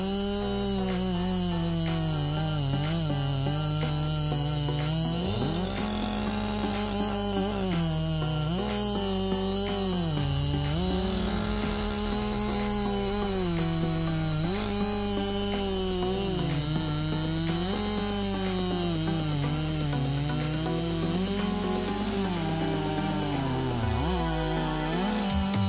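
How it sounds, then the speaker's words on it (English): Chainsaw cutting through big timber in forestry work, a loud continuous engine whine that rises and falls in pitch as the chain bites and revs, running steadily throughout with no talk. "Foresters depend on chainsaws for precise cutting and minimal environmental impact."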